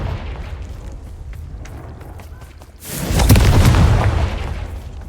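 A fiery Confringo spell blast from Hogwarts Legacy, a loud booming burst that swells in halfway through and rumbles on for over a second over a low background hum.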